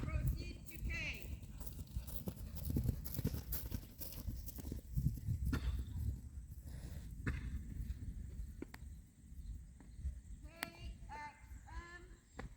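A horse's hooves in a working trot on an arena surface during a preliminary dressage test, soft rhythmic thuds heard under a caller's voice reading out the test movements.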